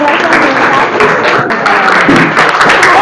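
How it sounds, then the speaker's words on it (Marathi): Schoolchildren applauding at a primary school quiz, a dense, steady burst of clapping from a group nearby lasting the whole moment, with some chatter mixed in. "अरे वा टाळ्या"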